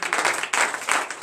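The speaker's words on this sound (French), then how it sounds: "Donnez de vive acclamation." A church congregation claps during morning prayer in Comè, Benin, in bursts of dense, fairly close applause with brief dips between the waves.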